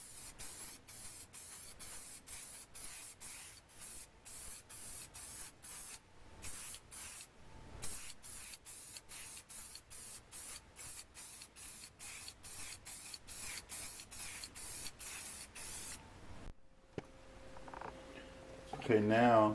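Spray coat hissing onto a license plate in rapid short bursts, a steady run of near, even pulses, the third coat, pausing briefly near the end as a faint other sound comes in.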